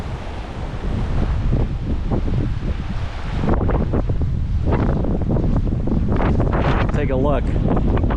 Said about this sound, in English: if this wind does not die down,